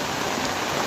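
Rain pours steadily in a brief, dense wash of hiss at moderate level, with no voices.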